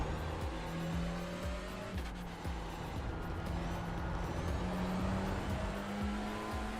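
A Porsche Cup race car engine in an iRacing video game at Interlagos drones steadily at high revs, with a whining tone and a rhythmic thumping underneath, loud and continuous.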